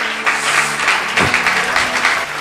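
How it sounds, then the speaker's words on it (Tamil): A church congregation at a Bible study claps on request, a full, loud wash of many hands with a low hum and murmur beneath it. "கைத்தட்டுங்க ஒரு அவருக்கு."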